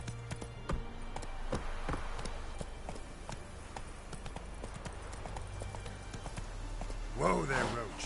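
The horse Roach from The Witcher 3 gallops in a steady, rapid clip-clop of hooves under a low ambient hum, with a brief vocal burst near the end.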